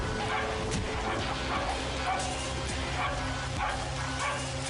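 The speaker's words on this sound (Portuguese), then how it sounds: "Para não levantar suspeitas, Ramos mata o cachorro de Januário" In a crime dramatization, a dog barks and yips repeatedly in short bursts over a dense, noisy background of music and ambient sound, fairly loud and continuous.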